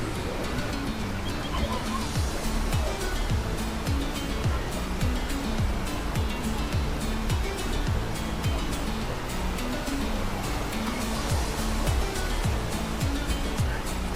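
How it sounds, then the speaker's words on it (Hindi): Large waterfall in Ubud, Bali, giving a dense, unbroken roar of falling water that stays loud and even throughout, close by. "This is one of the biggest waterfall in Bali."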